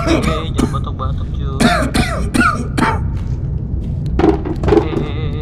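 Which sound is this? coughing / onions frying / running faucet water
coughing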